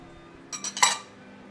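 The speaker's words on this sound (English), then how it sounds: "Clean out my bowl of heavy cream." A spoon scrapes heavy cream out of a bowl in a kitchen, producing three or four quick, close metallic scraping clinks within about half a second over quiet background.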